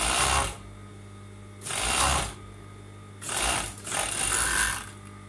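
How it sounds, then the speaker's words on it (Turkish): Short bursts from a sewing machine stitching the collar of a knit tricot sweater, three separate runs with pauses between them, close and clear, with no voices. "Ben bu şekilde çok rahat dikiyorum."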